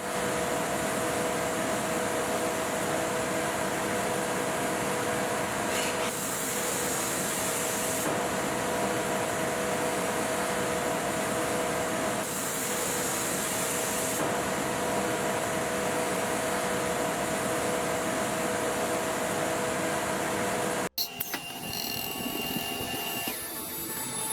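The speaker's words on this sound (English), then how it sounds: "The computer creates the shape, the router executes it" A CNC router cuts a shape with a steady, loud high-pitched whine and grinding hiss, holding continuously for about twenty seconds with slight pitch shifts, then breaking into rougher clattering at the end.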